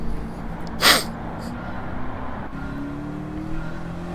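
A single sharp sneeze bursts out near the start of a Gran Turismo racing session, cutting over a steady car engine drone that continues underneath.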